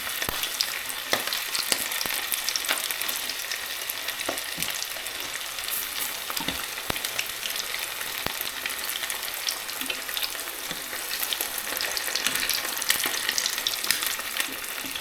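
Salt and pepper chicken wings frying in a pan of hot oil give a steady, dense crackling sizzle throughout, with occasional sharper pops and stirring, and no voices.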